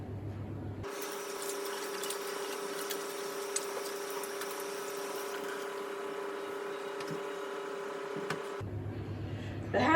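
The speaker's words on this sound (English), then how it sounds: "The hands have been washed" Tap water runs steadily into a sink as hands are washed, a continuous close splashing stream that starts shortly after the beginning and cuts off near the end.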